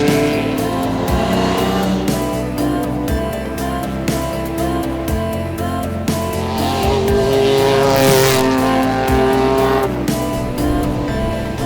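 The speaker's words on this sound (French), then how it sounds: "Mais ça va très bien, la voiture roule très bien." Lancia Stratos rally car driving flat out on a special stage of a touring rally, a loud close engine with constant on-board roar, rising and falling revs through gear changes and tyre noise, no talk.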